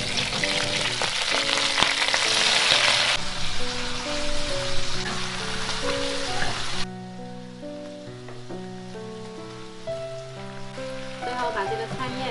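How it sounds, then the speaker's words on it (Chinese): Spring green stalks hit hot lard with shredded ginger in a wok and sizzle loudly, with stirring scrapes, before the frying settles to a quieter, steady crackle under kitchen clatter. "接着把这个菜梗放下去炒软。"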